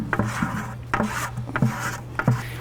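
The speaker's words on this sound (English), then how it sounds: "We're going to scrape the bottom of our bucket." A 5-gallon paint stick scraping epoxy resin off the bottom of a bucket, making a few close, gritty scrapes and knocks in a quick uneven rhythm.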